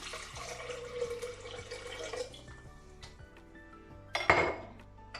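Glass and hard containers clink and knock on a countertop as an electric blender jar is handled, with a brief splash of pouring water near the end, close and fairly quiet.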